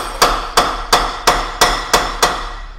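A hammer strikes the 18 mm ball joint bolt on an Opel Astra H seven times in a steady, even rhythm, each blow sharp, loud and close with a short metallic ring.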